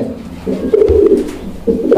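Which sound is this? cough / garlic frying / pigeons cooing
pigeons cooing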